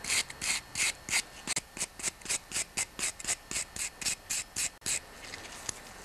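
Rhythmic scrubbing strokes on the edges of a Yamaha Big Bear ATV carburetor to remove corrosion, about twenty quick, evenly paced back-and-forth rubs, close and alone.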